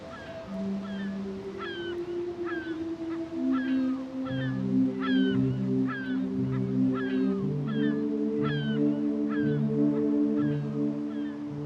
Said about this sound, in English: In the air, too, they're a feast for seagulls.